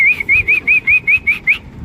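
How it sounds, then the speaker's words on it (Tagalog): Homing pigeons arriving at a loft after a race lap from Gumaca, Quezon, with a clear, repeated whistling call, about eight evenly spaced bursts over a low background rumble. "Ito po yung mahilap na ibon natin eh."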